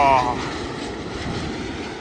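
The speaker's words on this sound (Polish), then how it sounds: "kolejny samolot, który właśnie będzie leciał nad samymi naszymi głowami" An airliner passes low overhead at Phuket's beach beside the runway, giving a broad, rushing engine roar that is loudest at the start and then stays steady.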